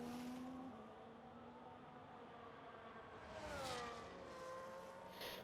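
A Ferrari 2004 Formula 1 car in the F1 25 racing game at the Las Vegas circuit, its engine screaming at high pitch with rising and falling tones, steady and loud throughout, without speech.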